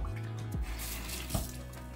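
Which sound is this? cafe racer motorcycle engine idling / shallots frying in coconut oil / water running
water running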